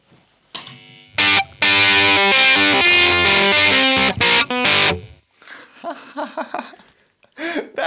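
Electric guitar through a Keeley fuzz bender pedal into a Fender Tweed amp, a few seconds of thick, distorted chords and sustained riffing, then thinner picked notes trailing off.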